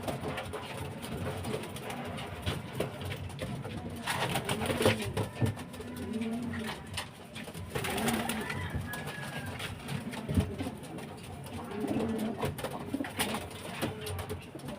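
Pigeons recovering from illness coo repeatedly in low, soft bursts against a steady background hum, several birds calling near and far throughout.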